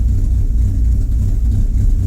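A DSM car engine idles on its own in a garage, a steady low rumbling throb close by, with no talking over it.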